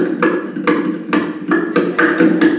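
A person imitates hard raindrops with a series of loud, close, percussive taps or clicks, about six to eight in an uneven rhythm, with no words spoken.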